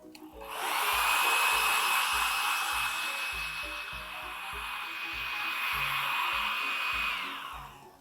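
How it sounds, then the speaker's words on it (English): A blow dryer runs steadily for several seconds to dry paint on a narwhal canvas painting, its close, airy whir holding constant before switching off. "So we're gonna hit that with the blow dryer again."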